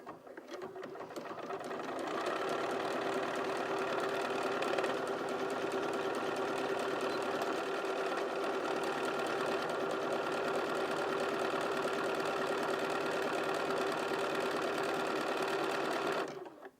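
A Bernina 475 QE sewing machine works through a buttonhole in fabric, its motor humming in a long, even run with a steady stitching rhythm from start to finish.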